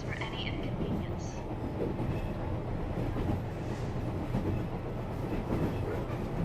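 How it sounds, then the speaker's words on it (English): Train running on rails under snowy conditions in an anime film, a steady continuous rumble of carriages and wheels throughout, fairly loud and constant with no talking. "Due to snow, this train is running 10 minutes behind schedule."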